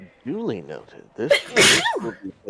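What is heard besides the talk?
sneeze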